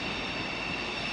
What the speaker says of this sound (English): there's another train coming out